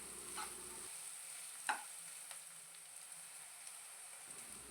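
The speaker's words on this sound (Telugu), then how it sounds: "ఆనియన్స్ ఫ్రై చేసుకుంటూ 2 పచ్చిమిర్చి తీసుకొని చిన్న ముక్కలుగా కట్ చేసుకొని వేసుకోవాలి." Onions and chopped green chillies fry in a pan for an Indian egg fry, giving a faint, steady sizzle with a single light clink of stirring, heard alone without talk.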